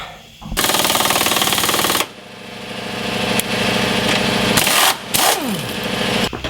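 A loud power tool runs in reverse to set a nut insert during a transfer case skid plate install, producing a harsh, rattling mechanical drone in long bursts with brief breaks in between.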